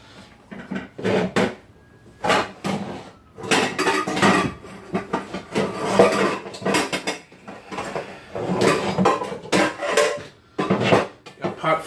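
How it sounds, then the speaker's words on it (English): Pots and pans are pulled out and set down in a home kitchen, loud close clanks and metallic rattles in uneven bursts with short pauses between them. "Get our pots and pans."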